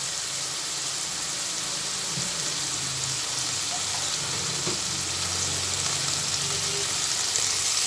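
Water poured into hot, oily masala in a pan while making til katla, a broad, loud, steady sizzle that holds evenly throughout, close and with no voices.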